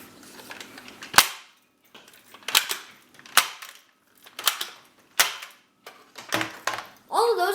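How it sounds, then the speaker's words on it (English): A modded Nerf Hyperfire blaster fires three foam darts, each shot a sharp, loud snap with a short whir, spaced a second or so apart among other clicks and mechanism noises, alone without talk. "So now I will fire off 3 darts for you."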